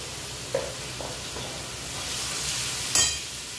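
Ginger and garlic frying in a pan give a steady soft sizzle and hiss, with a few brief clicks and spatters rising above it, close and fairly quiet.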